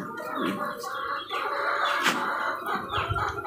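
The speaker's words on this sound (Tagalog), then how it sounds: "At ito guys yan mga manok ko pa yan" Backyard breeding chickens cluck close by, several short overlapping calls in an uneven run with a faint flutter of movement.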